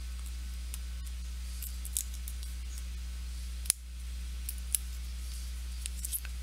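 Scissors trimming adhesive off the edge of a handmade card, with a few small snips and clicks scattered over quiet background hum, including one sharper cut near the middle.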